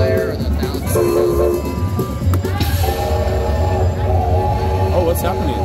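Train feature on a high-limit slot machine, with a loud train horn, whistle tones and rumbling rail effects over the casino din, and people talking over it.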